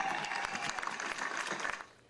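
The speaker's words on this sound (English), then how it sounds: "A big round of applause to the big supporters here." Rally crowd applauding supporters at the announcement of the Australian same-sex marriage postal survey result. The clapping sounds dense and distant and fades away at the end.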